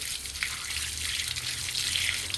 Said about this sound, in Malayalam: ഞാൻ കൈ കഴുകട്ടെ കയ്യിലെല്ലാം മണ്ണായില്ലേ